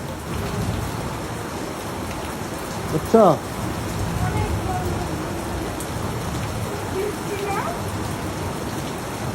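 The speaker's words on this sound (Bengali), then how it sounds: "বৃষ্টি জোরে হচ্ছে না।" Steady rain falls outdoors as a broad, even hiss that runs throughout, with people talking close by over it and a brief louder rustle partway through.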